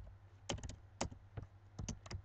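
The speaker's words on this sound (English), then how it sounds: "typing more code" Code being typed on a computer keyboard during a CSS lesson: quiet clusters of quick key taps in short bursts, close and soft, with no talk.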